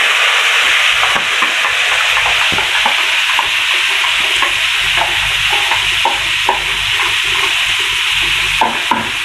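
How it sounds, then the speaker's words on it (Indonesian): Loud, steady sizzling of ground red chili paste frying in hot oil, with scattered scraping and stirring clicks throughout; no voices. "Sekarang kita masukin cabenya ya bun, cabai merah yang sudah kita haluskan tadi."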